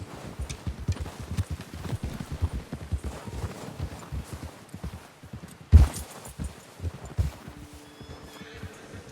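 A horse's hooves clip-clop at a steady trotting pace in the video game Red Dead Redemption 2, a continuous close rhythm with one heavier thump partway through and a faint tone near the end.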